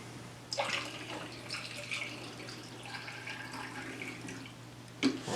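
Photographic film developer is poured into a developing tank, a steady close liquid splashing and trickling over a low hum, ending with a soft clunk.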